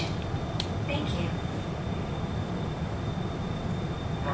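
Korail Line 1 express electric train bound for Dongincheon pulling away, a steady broadband rumble and rolling noise inside the car with a faint high whine and a few brief squeaks early on.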